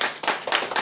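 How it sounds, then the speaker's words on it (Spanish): A church congregation at a Holy Communion service claps their hands together, a close, lively burst of applause swelling in several quick rhythmic waves, with no talking over it. "Dale una ofrenda de palmas al Señor"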